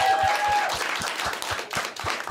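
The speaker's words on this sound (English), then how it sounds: "let's get a round of applause for our great crew that we had here tonight" An audience claps for the crew at the close of a live radio event, a steady run of applause with some distinct individual claps near the front and a faint tone threading through early on.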